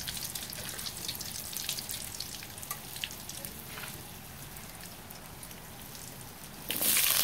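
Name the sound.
onions frying in hot oil in a wok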